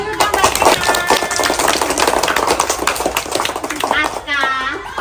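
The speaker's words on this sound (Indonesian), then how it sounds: "Diberi tepuk tangan dulu dong Mbak Kinam." A children's class claps for a classmate, quick bright hand claps running for several seconds with an adult voice and children talking over and after them.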